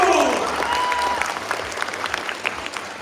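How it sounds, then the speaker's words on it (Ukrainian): A live audience at a medical faculty event claps and cheers in an ovation, steady applause under a voice talking over it. "Будь ласка, овації!"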